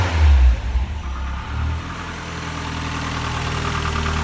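A Ford RS Cosworth on its original exhaust fires up with a deep low thump, then settles into a steady, smooth idle, close by and alone.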